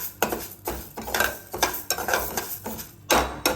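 Moong dal dry-roasting in a pan while being stirred, with regular scraping strokes of a spatula against the metal about every half second and a light dry rustle between them.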